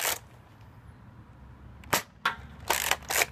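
A Nerf Sling Fire blaster fires foam darts, leaving a few short sharp snaps spaced apart over quiet room tone, close and fairly crisp.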